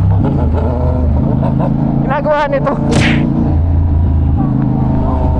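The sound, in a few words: Honda CB650R E-Clutch motorcycle engine revving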